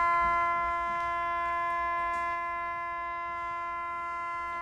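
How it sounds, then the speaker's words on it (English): A lightning siren halts a 2014 youth soccer tournament match, holding a steady, sustained tone that fades slightly over several seconds, heard at a distance with faint outdoor background. "That is the siren, and that means no soccer, Mr. Brown."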